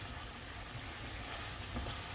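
Ground pork frying in a pan for tortang talong, a steady soft sizzle and crackle close by, with faint stirring scrapes and no talking.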